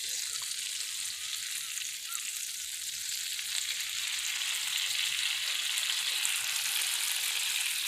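Butter melting in a hot pan with lemon juice, ahead of shrimp and cherry peppers: a steady, close, hissing sizzle that holds evenly throughout, with no talk.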